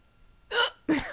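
A person hiccups twice, two sharp close bursts about a third of a second apart after a quiet lead-in, with no talk over them.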